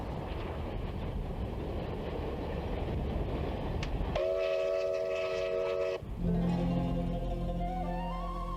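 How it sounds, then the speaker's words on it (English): A steam train on the Silk Road route in China rumbles steadily with broad noise, then a sustained multi-tone whistle sounds loud and clear for a couple of seconds before fading into continued rolling. "Today, steam trains ply the same route."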